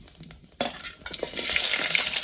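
Mustard seeds and cumin hit hot oil with a sudden loud sizzle that builds into a steady, crackling fry, while spattering intensifies over a couple of seconds.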